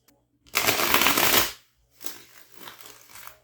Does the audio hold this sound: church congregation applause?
no